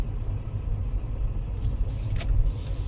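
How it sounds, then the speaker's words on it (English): Passing road traffic makes a steady, low rumble throughout, with a brief brighter swell near the end as a vehicle goes by fairly close; no one speaks. "hold on a second, I just got traffic, I apologize for that"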